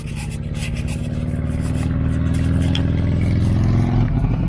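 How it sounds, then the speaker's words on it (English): A Harley-Davidson motorcycle engine idles and gradually builds in loudness, with a low, lumpy, pulsing rumble and some clattering, heard close up with no talking. "and the Harley noise."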